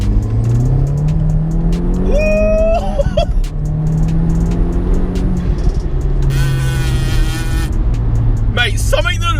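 A 300 BHP Seat Leon sleeper accelerates hard in third gear, engine note climbing loud and close with traction control cutting in, and someone talks over it.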